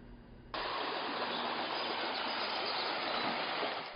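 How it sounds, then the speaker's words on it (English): River water rushes loud and steady from the middle fork of the Cosumnes River in El Dorado County, flowing under a canopy of trees, starting abruptly after a quieter moment and holding constant, with no speech. "this is what's left of the middle fork of the Cosumnes River"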